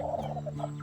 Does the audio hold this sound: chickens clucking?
yes